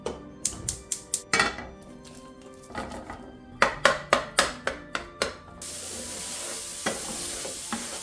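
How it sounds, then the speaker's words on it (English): Jimmy Dean hot sausage crumbled and browned in a skillet, with a run of sharp spatula scrapes and taps against the pan, then a steady soft sizzle underneath; close and fairly loud, with no talking. "We are gonna start by crumbling and browning our Jimmy Dean hot sausage."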